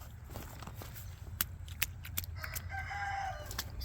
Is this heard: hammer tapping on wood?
no